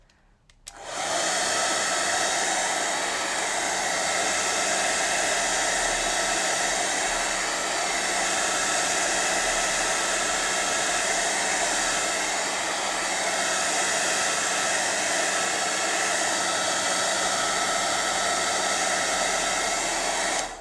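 A hair dryer blows steadily at close range to dry a fresh watercolour-style drawing, a loud continuous whooshing roar that starts abruptly and holds unbroken for about twenty seconds with no talking.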